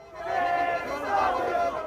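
Crowd of protesters at an anti-immigration demonstration against asylum hotels in Britain, a dense mass of raised voices chanting and shouting together, sustained and fairly loud throughout.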